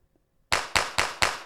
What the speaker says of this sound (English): That's the hand clap.